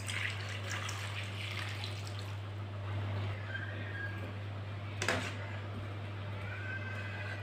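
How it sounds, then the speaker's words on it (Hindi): Two glasses of water poured into a pot of peeled apples for apple murabba: a steady, continuous splashing rush over a low constant hum, with a brief louder splash near the end and no talking. "2 गिलास पानी डालेंगे साथ"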